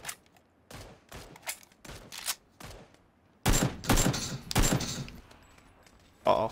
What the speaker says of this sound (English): Got 30 seconds to blow some AKM ammo.